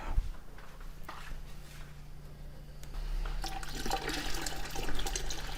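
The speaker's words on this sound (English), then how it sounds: "I need to add more water." Water pours into a canning pot holding jars. The flow is steady and close, with a gushing, splashing sound that grows louder in the second half.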